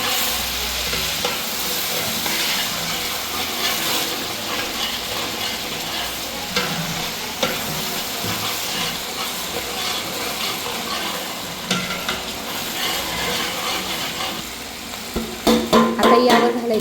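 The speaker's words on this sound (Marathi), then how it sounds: "आता आपण आलं आणि लसूण तेल सुटेपर्यंत चांगलं परतून घेतले" Ginger and garlic sauté in oil in a large pot for a big batch. A loud, continuous hiss and crackle carries on with stirring scrapes throughout, and a few sharper clatters come near the end.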